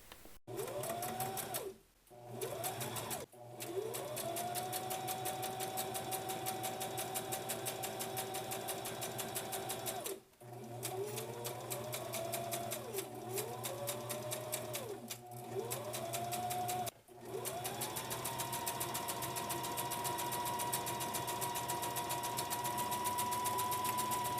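An electric sewing machine stitches along the edge of a fabric mask in a loud, steady whirring drone, stopping briefly a few times and restarting with short ramps in speed, close up and without speech.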